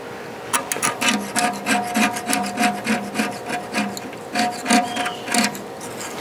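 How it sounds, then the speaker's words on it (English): Old glue is scraped off a kamado grill gasket, a rhythmic series of close, rasping strokes repeating about twice a second, each a short gritty scratch. "Let's see if I can get it scraping here. Just kind of scrape along."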